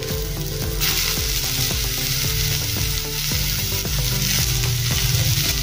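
Tomatoes are stirred into softened onions frying in a pan, with a steady loud sizzle and regular scraping clicks from the spoon throughout.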